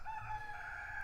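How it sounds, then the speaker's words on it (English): A rooster crows on a homestead, a single drawn-out call heard clearly at moderate distance. "And now the rooster's laughing at him."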